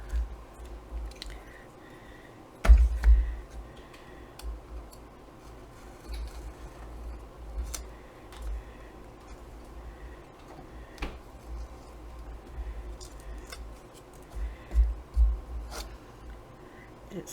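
A blade or file trims the edges of paper for a wall-hanging collage sign, making soft, close scraping and scratching strokes in irregular bursts with a few sharper scuffs, no one speaking.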